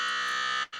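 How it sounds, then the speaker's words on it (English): A loud, steady electronic buzzer sounds at the end of a game clock in a football broadcast, holding one continuous tone before briefly cutting out and resuming. "Right on time with the buzzer"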